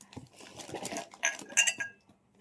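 Thick, large glass tumblers clinking and knocking together as they are handled in a shop, a few bright chinks and clatters scattered over a couple of seconds, close and moderately loud with no talk.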